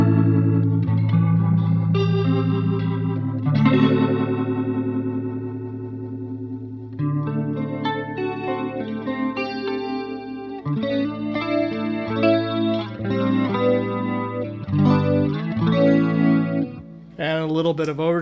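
An electric guitar played through a Leslie-style rotary speaker pedal set to mimic a 122 or 147 cabinet gives swirling, warbling chords and melodic lines, loud and close, with a short pause partway through and a sharp burst at the end.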